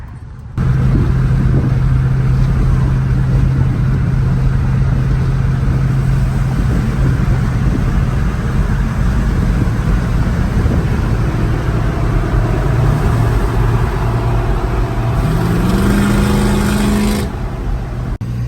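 A truck with an LS V8 engine drives and revs, its deep steady engine drone loud and close throughout with a rising rev near the end, no voices over it.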